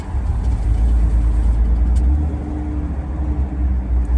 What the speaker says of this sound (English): another car started